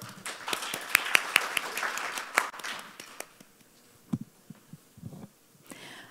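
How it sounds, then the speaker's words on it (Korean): Audience at a robot ethics talk show at the 2023 Robot Business Fair applauds to welcome a lawyer to the stage, a short burst of clapping that thins to a few scattered claps, then footsteps and shuffling. "여러분 변호사님을 박수로 맞아주십시오"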